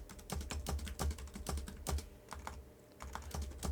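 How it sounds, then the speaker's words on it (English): Quick typing on a computer keyboard, close and clear, with irregular bursts of keystrokes and brief pauses, no talking. "Can't type my spaces properly, there we go."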